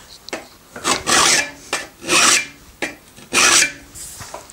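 A file rasps across the edge of a steel card scraper in repeated strokes, three strong close-up passes with short quiet gaps between them, no talk.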